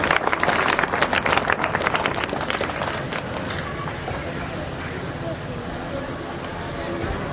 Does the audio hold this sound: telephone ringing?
no